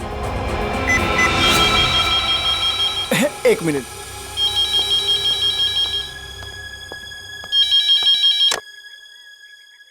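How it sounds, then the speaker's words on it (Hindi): A telephone rings in repeated electronic bursts during a tense scene, with excited talk from a child and others over and between the rings. "फोन फोन करता हूँ।"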